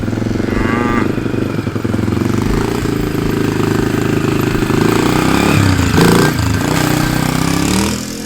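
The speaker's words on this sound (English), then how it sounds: "Waylon's over here on his motorcycle, as Ransom calls it, or a dirt bike." A big dirt bike motorcycle engine runs steadily and loud close by, with a throttle rise near the end, over a low continuous rumble and no talking.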